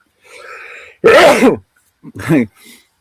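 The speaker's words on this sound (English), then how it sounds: "Big old sneeze." A sharp, close sneeze preceded by a short inhale, followed by a second smaller burst and a faint breathy sound.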